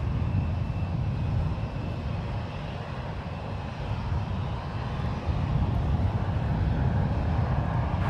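An Alaska Airlines jet takes off from runway 1 left at San Francisco International Airport, its engines producing a steady, broad roar with some wind noise on the microphone, no voices heard.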